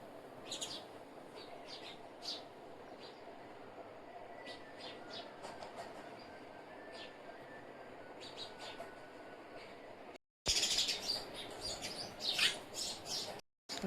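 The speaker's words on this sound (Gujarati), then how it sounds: "ચકલી બોલતી કે મસ્ત અવાજ આવે ને લાગે સરસ." Sparrows chirping near their nest, faint and distant, with scattered short repeated tweets over a quiet background, followed by a few seconds of louder close rustling and bumps.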